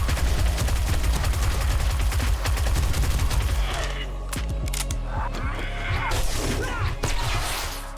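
Rapid SMG fire in 7 Days to Die, a loud fast-rattling burst of shots for several seconds that then breaks into scattered thuds and impacts as the shooting stops.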